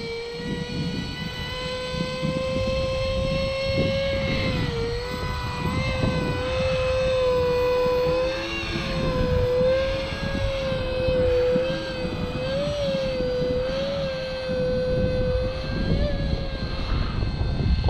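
Model V-22 Osprey tiltrotor aircraft flying and transitioning toward forward flight, a steady close electric whine with a wavering tone as the motor speed shifts, over whooshing rotor wash throughout.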